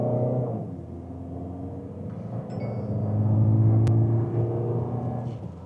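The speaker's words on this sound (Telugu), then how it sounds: "మీరు హార్డ్గా యాక్సిలరేషన్ ఇచ్చినప్పుడు సౌండ్ వస్తుంది" A Mahindra XUV 7XO diesel SUV engine under hard acceleration, a steady close-up drone and rumble that swells louder midway, with no talking.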